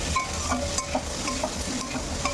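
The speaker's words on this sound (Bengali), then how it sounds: "ওই কড়াইতে আলুগুলো দিয়ে দিচ্ছি" Potatoes fry in oil in a wok, giving a steady close sizzle broken by repeated scraping stirs of a utensil over a few seconds.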